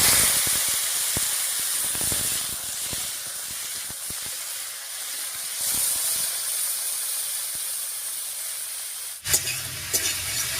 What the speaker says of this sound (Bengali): এবারে কেটে রাখা টমেটো দিয়ে দিচ্ছি।